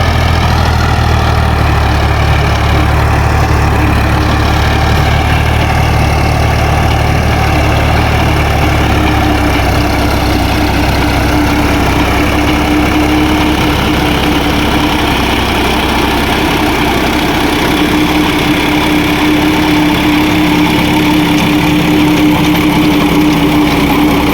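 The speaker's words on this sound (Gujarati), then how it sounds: "આપણું ટ્રેક્ટર આવે છે" Loud, steady engine rumble of a driverless, GPS-steered Sonalika tractor running close by, chugging continuously with a slight shift in tone partway through, no talking.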